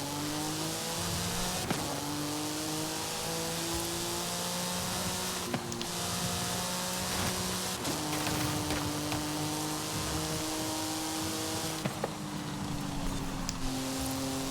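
A 1998 Porsche 911 GT1 Strassenversion racing in Forza Horizon 5, its engine droning loud and steady with rising and falling pitch through gear shifts and throttle lifts, no talk over it.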